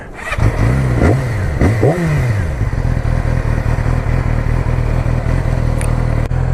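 A motorcycle being ridden close up, its engine revving up and down in a few quick surges before settling into a steady, loud cruising drone with no talking.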